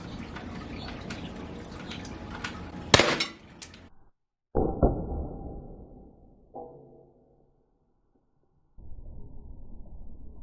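A single sharp, loud crack from an Umarex T4E HDS68 CO2-powered double-barrel shotgun firing its left barrel, followed by clattering handling noises and short stretches of near silence.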